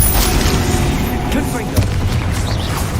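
A Confringo fire spell blast from the Hogwarts Legacy video game, a loud booming burst with a rumbling low tail in a cleared room, with a voice talking over it.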